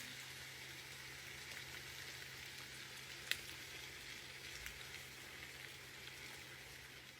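Pasta sauce with cream sizzles quietly in a pan as it is stirred. A soft, steady frying hiss runs throughout, with a few faint clicks and no distinct stirring strokes.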